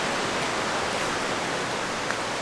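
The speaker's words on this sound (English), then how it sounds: "Got the river right behind it, roaring away." River in the Pyrenees roaring behind a mountain spot, a dense, steady rushing of water that stays constant and fairly loud with no other sounds.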